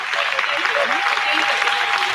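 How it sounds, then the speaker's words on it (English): A room full of people applauds a speaker at a business scaling program cohort session, with dense, steady clapping throughout and voices mixed in underneath. "A round of applause to Lily for fantastic words."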